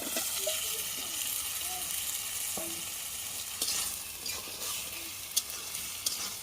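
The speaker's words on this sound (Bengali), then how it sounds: "আলুগুলা সেদ্ধ হয় না পর্যন্ত আমি কষাবো আলুগুলা" Cut potatoes sauté in a cooked-down spice paste with oil, a broad steady hiss and sizzle with occasional spoon clicks, close up, with faint talk in the background.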